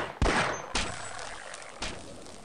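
Bursts of enemy gunfire in Half-Life, three sharp volleys spaced about half a second to a second apart, each trailing off with a ringing echo, loud and close with no talking.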